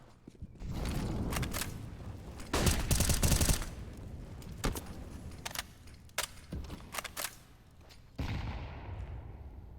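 AWP sniper rifle fire from a Counter-Strike esports match: sharp, loud gunshot cracks come in scattered bursts, some layered with other weapons firing, amid clattering game noise and no talk.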